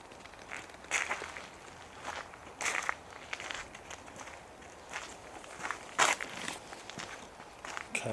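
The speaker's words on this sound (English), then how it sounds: "Okay, so I'm walking now towards the exit." Footsteps crunch along a path through a cemetery at night, steady walking with a few louder, closer steps standing out against a quiet background.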